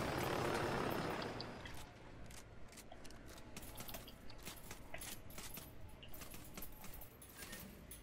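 A helicopter in the Ghost Recon Wildlands video game: a loud whoosh at first, then a steady rotor thrum with mechanical rattling, moderately distant.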